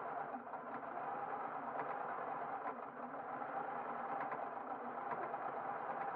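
A sewing machine runs steadily, stitching stretch jersey cotton with a small zigzag stitch, a continuous even motor whir with faint rhythmic needle ticks throughout, close and moderately loud.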